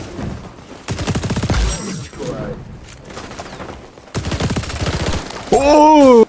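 Bursts of close, rapid SMG gunfire from the video game XDefiant, with a few separate volleys amid movement sounds and game effects.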